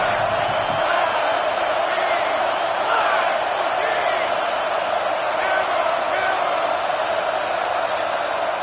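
A college football stadium crowd roars in a broad, continuous wash of cheering and shouting while the opposing offense is pinned deep in its own end, with a commentator talking over it.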